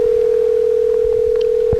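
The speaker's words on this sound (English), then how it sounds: "Let's call Dan Dobler back, even though it's a little bit late." A telephone dial tone sounds while calling someone back, a steady unbroken tone held loud and close throughout, with faint small clicks beneath it.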